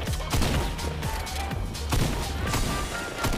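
Rapid gunfire in Fortnite, a series of sharp shots and impacts in irregular bursts at close range, loud against a busy game background.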